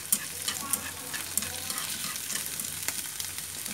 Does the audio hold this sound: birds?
no